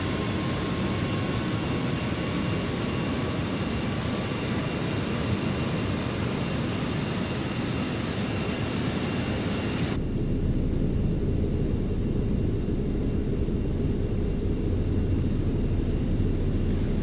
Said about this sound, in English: watch the plane fire up the engines and make their way out to the taxiway to depart